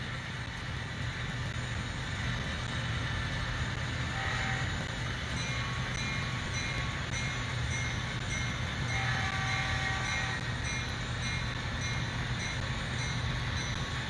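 An HO scale model train rumbles steadily through a yard, its continuous low running noise and faint clicking holding at a constant level throughout with no voices.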